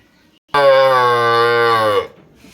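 A tethered calf cries with a single long, loud, drawn-out moo lasting about a second and a half, close and clear against a quiet background.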